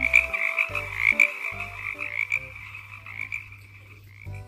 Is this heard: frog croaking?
yes